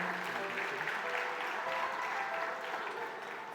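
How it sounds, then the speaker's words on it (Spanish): An audience claps for the crew in a steady, even round of applause that fills the room and holds at a moderate level, with no voices over it. "A round of applause to the Un amazing crew"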